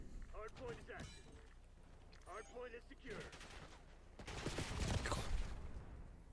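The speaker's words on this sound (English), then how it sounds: "But the Grau is also just such a good gun." Grau rifle fire in Black Ops 6, a burst of automatic shots swelling loud near the end after quieter stretches of talk, with gunfire rattling under the speech.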